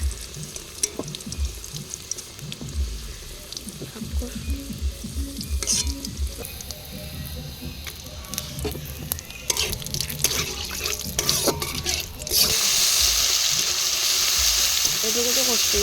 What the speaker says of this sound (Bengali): তো মশলাটা ভালো করে কষিয়ে নেব আমি